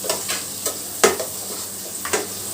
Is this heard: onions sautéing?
yes